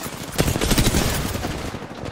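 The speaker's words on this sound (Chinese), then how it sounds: "阿汉， 哎， 挡一下子弹" Gunfire in a shooting video game, a dense, loud burst of rapid rattling shots lasting about two seconds.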